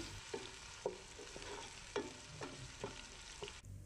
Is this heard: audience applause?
no